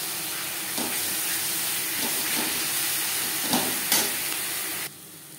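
Onion, garlic and spices frying together in a pan for a fish and potato curry, giving a steady close hiss and sizzle with a few soft stirring knocks, no voices.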